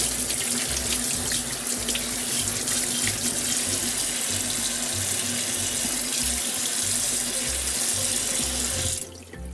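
Tap water runs steadily into a kitchen sink, rinsing the belly cavity of a young tuna being cleaned, a continuous close splashing hiss that ends abruptly near the close.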